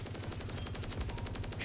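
Steady rapid gunfire in a boss fight in a video game, a continuous rhythmic stream of evenly spaced shots throughout, moderately quiet and with no talk over it.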